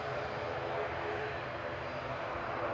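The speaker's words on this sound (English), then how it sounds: "So we got Hainan just taxiing out now." Hainan Airlines jet taxiing out at Manchester Airport, a steady broadband engine roar with a faint whine, holding constant and fairly loud throughout, with voices faintly audible underneath.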